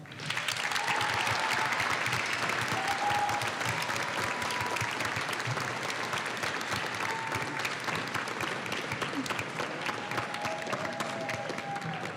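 Sustained audience applause at a high school graduation ceremony for an honors graduate, even and continuous across the whole stretch, with faint voices mixed in.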